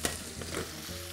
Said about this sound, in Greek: Ανακατεύουμε μέχρι να εξατμιστεί εντελώς όλο το νερό στην κατσαρόλα.